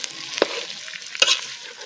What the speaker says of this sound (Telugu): కూర ఇట్లా మనం మంచిగా కలుపుకోవాలి.